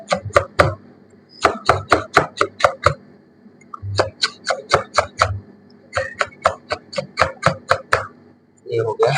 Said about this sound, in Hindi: इसी तरीके से अपने को इसको चॉप करना है